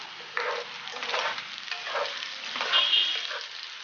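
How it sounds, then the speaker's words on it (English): A chicken mixture is stirred in a pan after pepper powder goes in, giving a close sizzle with rhythmic scraping pulses of moderate loudness as the spoon moves through it. "Mix well. Give it a nice stir."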